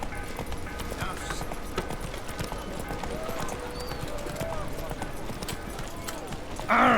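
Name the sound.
horse galloping hooves in video game The Witcher 3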